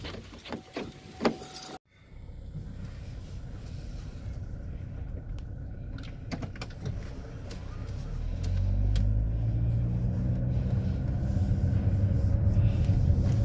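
A car door thuds shut, and then the car's engine rumbles steadily while it drives, the low drone growing louder and heavier as it picks up speed, with a few faint clicks and rattles inside the cabin.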